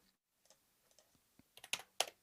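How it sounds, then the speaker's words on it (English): Keys tapped on a computer keyboard while entering numbers into a teletext game, a sparse run of faint clicks that builds into several louder, sharper keystrokes toward the end, with no talking. "Typing in the wrong numbers."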